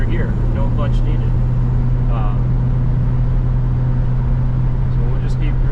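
A 1958 Chevrolet Delray cruises down the road, its engine producing a steady low drone with continuous road rumble throughout, while a faint voice comes and goes in the cabin.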